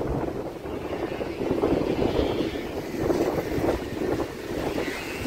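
Sea waves crash onto a shore in rolling, rumbling surges, heavy and near, with strong wind buffeting the microphone throughout and no voices.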